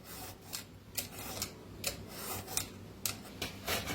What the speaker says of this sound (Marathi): तर आता किसणीनं किसून घेऊया आपण